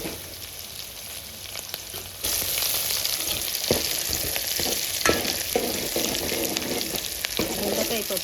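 A tempering of curry leaves and dried red chillies sizzles in a pan for dondakaya pappu, a low hiss that jumps to a louder, denser frying crackle partway through, with intermittent pops and spatters close by.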